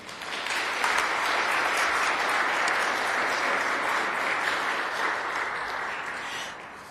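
An audience at a civic day meeting gives a big round of applause for senators who voted against a bill, dense sustained clapping that swells quickly, holds steady for several seconds and then tapers off.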